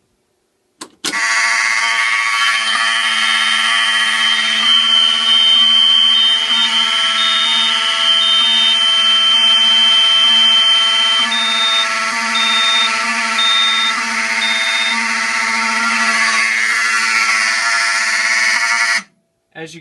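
A fire alarm panel sounds after a pull station test, giving a loud, continuous electronic tone that starts abruptly, holds steady for about seventeen seconds, then cuts off.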